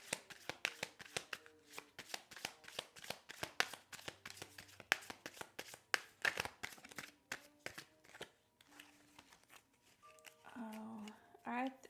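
Tarot cards being shuffled by hand for a card reading, with rapid, close, crisp riffling and flicking in quick bursts that continue for several seconds before a softer voice-like passage near the end.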